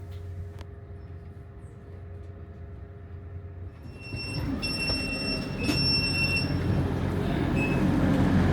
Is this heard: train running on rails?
yes